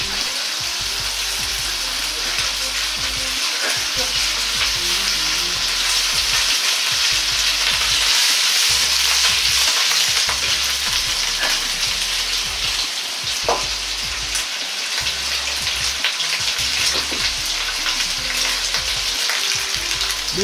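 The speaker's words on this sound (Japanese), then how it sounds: "ベーコンの旨味を油につくようにして焼いていきます。" Bacon sizzles and fries in oil in a pan, a steady close crackling hiss that runs without a break, with light stirring and scraping underneath.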